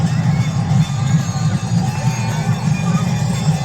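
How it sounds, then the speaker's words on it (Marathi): Continuous crowd clapping and cheering for students at a Republic Day school drill, loud and steady, with chatter and shouts blended into the applause. "जोरदार टाळ्या या विद्यार्थ्यांसाठी"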